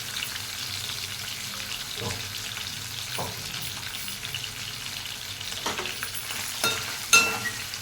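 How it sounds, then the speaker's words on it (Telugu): Food fries in oil in a pan with a steady low sizzle, interrupted by a few short stirring scrapes and knocks of a utensil, close but moderately quiet, with a sharper clack near the end and no voices. "ఇలా కొద్దిగా కొంచెంసేపు వేపితే చాలు"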